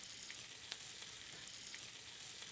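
Food cooks in a dry pan with no butter or oil, giving a steady, soft sizzle with faint scattered crackles. It is continuous and fairly quiet, with no talking.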